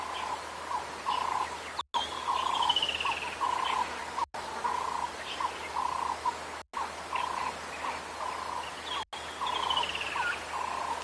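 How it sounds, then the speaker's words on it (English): Many birds call and chirp together in a steady outdoor chorus, with repeated whistles and trills over a faint low hum. "You can hear we're starting to get to the point of the dusk chorus again."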